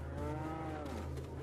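A single low, sustained cow moo in the Resident Evil 4 village farm, steady and fairly close with no talking.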